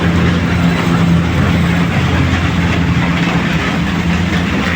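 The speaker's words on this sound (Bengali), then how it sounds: "এই বৃষ্টির মধ্যে ট্রেন হলো যাচ্ছে তার ঝকঝকানি শব্দে।" A local train passing a railway crossing at Jessore station in the rain, its heavy low rumble and rattle steady and loud throughout, with rainfall noise spread over it.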